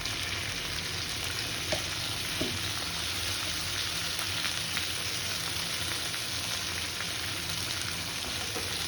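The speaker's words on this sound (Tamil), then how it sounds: "இஞ்சி பூண்டு பேஸ்ட்டு போட்டு கொஞ்சம் வதக்கணும்" Ginger garlic paste fries with onion in a pan, giving a steady, loud, close sizzle that stays unbroken throughout, with occasional faint stirring knocks beneath it.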